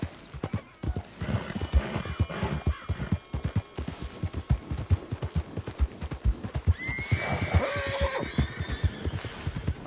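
Horses in the Red Dead Redemption 2 video game gallop with a rapid, continuous clip-clop of hooves, joined by loud, drawn-out neighs that break in toward the end.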